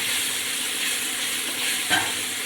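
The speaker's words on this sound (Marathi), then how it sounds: "ते थोडंसं फ्राय करून घेऊयात" Ground coriander, turmeric and cumin powders frying in a pan, giving a continuous close, dense sizzle with a brief stirring clink near the end, no voices.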